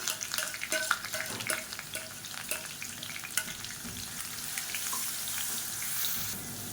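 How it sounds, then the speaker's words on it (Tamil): Ground onion and dried red chilli paste is sautéed in hot oil, with rhythmic spatula scrapes at first and then a continuous close sizzle, with no one talking. "இப்போ அரைச்சி வச்சுருக்க வெங்காயம் வரமிளகா பேஸ்ட்டை சேர்த்துக்கலாம் சேர்த்துட்டு பச்சை வாசனை போக வதக்கி விட்டுக்கலாம்"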